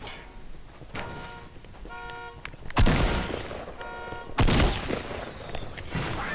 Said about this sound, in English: Someone shooting you with rocket launcher.